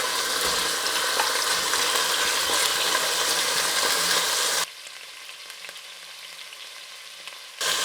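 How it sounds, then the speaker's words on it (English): Beef browning in hot ghee gives off a loud, dense, continuous sizzle that suddenly drops to a much quieter hiss partway through before swelling again at the end. "Usual browning of the meat"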